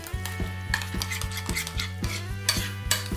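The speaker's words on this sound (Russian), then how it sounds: "И оба соуса перемешиваем." Two sauces being stirred together in a bowl with a utensil, steady rhythmic scraping and clinking strokes, close and fairly loud, no talking.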